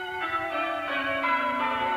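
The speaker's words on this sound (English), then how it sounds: "then some guys ringing a bell" Bell ringing in a 1990s UK television cheese commercial, a steady sustained peal over two seconds with a bright, ringing tone and no speech.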